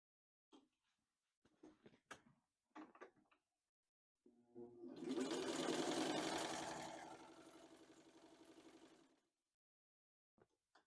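A 1948 Singer 15-91 sewing machine stitches through four layers of folded shop towels, running in one sustained, steady mechanical whir of several seconds after a few short clicks and handling noises, with no talking.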